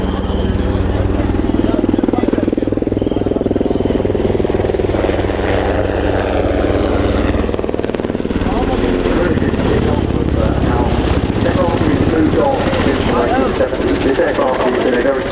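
Aircraft flying low at the RIAT airshow, a loud continuous engine roar and droning rumble that shifts in tone as it passes, with a voice commentating over the noise.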